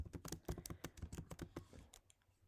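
Fingers tap a computer keyboard in a quick, uneven burst of close key clicks that trail off into a few softer strokes, with no voices.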